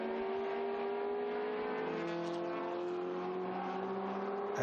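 Historic racing cars lapping the Estoril circuit: a steady, loud engine drone with strong tonal harmonics, the pitch shifting slightly as a car holds high revs throughout.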